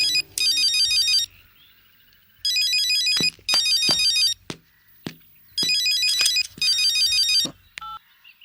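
A telephone ringtone plays in repeated short electronic bursts separated by gaps, with a few thumps between them, close and clear with no talking.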